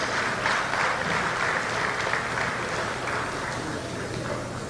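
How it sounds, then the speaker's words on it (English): An audience applauds steadily for several seconds at a gathering, a dense, even patter of many hands with no voices over it. "A round of applause for her."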